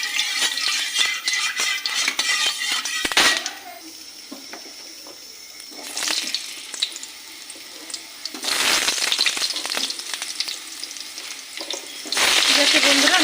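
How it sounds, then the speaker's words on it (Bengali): Potatoes frying in oil in a kadai, a broad crackling sizzle with stirring scrapes and clatter, rising and falling in intensity, loud and close with no talk. "আমি আলুটা ভাজা করে নিই।"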